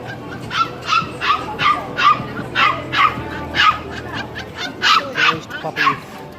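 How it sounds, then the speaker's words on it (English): Puppies at Divisoria market in Manila bark and whimper in quick repeated yips, close by, with people talking in the busy surroundings. "Puppies."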